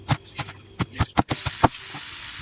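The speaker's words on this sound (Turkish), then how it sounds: "Öncelikle kıymamızı kavuracağız. Kıymamız kavrulurken biz de bu arada diğer malzemeleri doğrayıp hazırlayacağız." Ground meat browning in a pan for a home-style stuffed aubergine dish, heard as a steady close sizzle broken by a run of sharp knocks and scrapes from stirring, with no talk.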